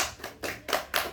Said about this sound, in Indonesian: boleh tepuk tangan dulu buat Kia